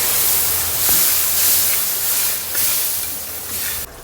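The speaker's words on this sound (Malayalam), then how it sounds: "അതും നല്ലോണം മിക്സ് ആക്കിയതിന് ശേഷം നമുക്ക് വിനീഗർ ഒഴിച്ചു കൊടുക്കാം" Vinegar poured into hot papaya pickle masala gives off a steady, loud hiss and sizzle that holds evenly for a few seconds before cutting off, with no voices.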